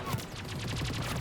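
Rapid gunfire from a gun in Mass Effect 3, a quick run of evenly spaced sharp shots in close succession over about a second, loud and dense.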